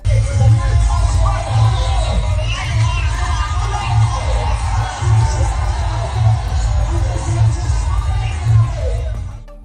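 A loud crowd celebrating while a song for the MLA plays, a steady wash of cheering and shouting voices over a thumping, rhythmic music beat throughout.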